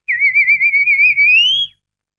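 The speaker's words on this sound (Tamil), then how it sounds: "குயில் குயில்." A clean, high, wavering whistle-like call held for nearly two seconds and rising at the end, attributed to a cuckoo, loud and close with a faint low rumble beneath and no voices.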